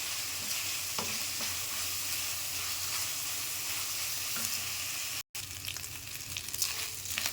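Steady oil sizzle and crackle of onion, garlic and ginger frying in a pan, continuous and close, with occasional stirring scrapes and a brief gap near the end.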